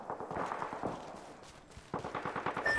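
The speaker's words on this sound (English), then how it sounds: "I am taking fire, friends." Rapid bursts of automatic gunfire crackle through an Apex Legends firefight, with a sharp run of shots early, a lull, then another quick volley near the end, moderately loud and without speech.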